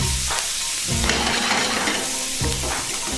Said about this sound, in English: Shallots cooking nicely.